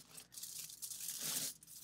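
Hair foil sheets tearing along a cabinet edge, a quiet, close crinkling rip that rises into a longer tear and then stops.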